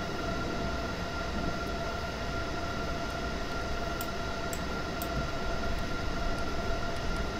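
In the video game Train Simulator 2021, a regional express locomotive powers up to accelerate, giving a steady, loud engine drone with a sustained tonal hum and faint ticking clicks over it, with no talking.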